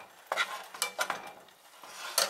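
Rice being stirred with lime, pepper and olive oil in a pan, giving a few soft scraping, sizzling stir strokes at close range with short pauses between them and no talking.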